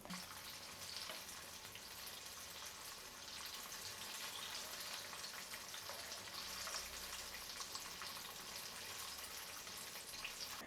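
Banana snacks frying in hot oil, giving a continuous, even sizzle and bubbling hiss close by for the whole stretch, with no talk.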